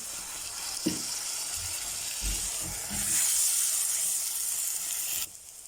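Steady frying hiss of a spice tempering in hot oil for karhi, growing louder and brighter midway, with a few faint clinks of a utensil before it drops off near the end.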